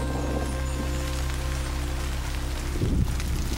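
Steady rain falling outdoors in a park, a dense even hiss of drops on surfaces with a slight swell near the end.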